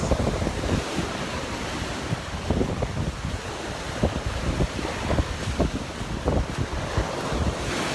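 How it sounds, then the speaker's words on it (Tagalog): Big sea waves break on a shore in a steady, loud roar of surf, mixed with heavy wind buffeting the microphone and no voices. "Dagko yung bawd guys"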